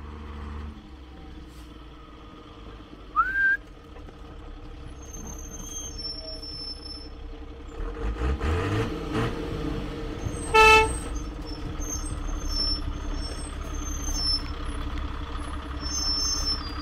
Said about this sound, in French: Reste là, Alban, le gros camion, il arrive